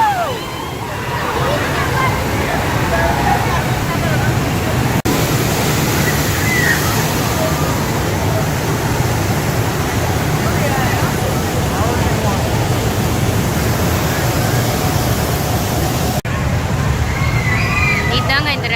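Infinity Falls water ride at SeaWorld Orlando, a loud continuous roar of rushing, churning water that fills the whole stretch, with crowd murmur and voices underneath.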